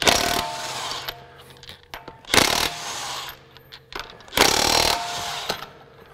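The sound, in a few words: Craftsman V20 brushless high torque impact wrench impacting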